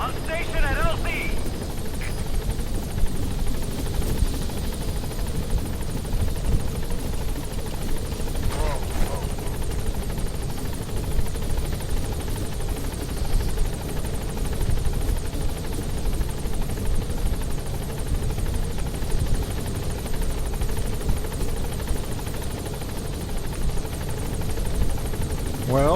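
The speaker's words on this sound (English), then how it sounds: "We gotta wait for the helicopter." Helicopter arriving at a landing zone in the Metal Gear Solid V video game: a steady, loud rotor and engine drone holding for the whole stretch, with game sounds and a voice over it now and then.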